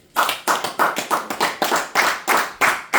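A church congregation claps together in a quick, steady rhythm, about a dozen sharp, loud hand claps in a few seconds with no voices over them.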